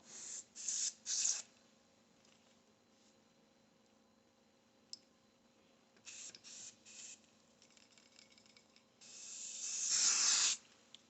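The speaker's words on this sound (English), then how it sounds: "I just sprayed a little bit more" Short hissing bursts from a spray can during beanie embroidery, then a longer spray near the end, with quiet clicking and a faint embroidery machine hum between.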